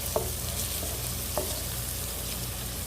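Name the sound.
onions cooking in an electric skillet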